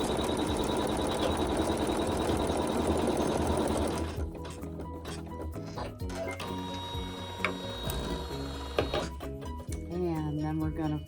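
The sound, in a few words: sewing machine sewing a quilt block seam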